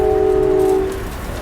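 On a first train ride, a passing train sounds a loud, close horn with a steady tone that cuts off after about a second, leaving a low rumble of rail noise.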